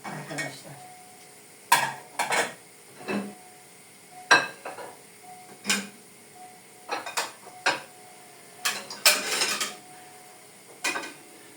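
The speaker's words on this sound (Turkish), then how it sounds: "Şöyle ses yapmadan birlikte bulaşık makinesini boşaltalım." Dishes and cutlery clink and clatter in sharp, irregular bursts as they are lifted out of a dishwasher and set down, close by, with no talking.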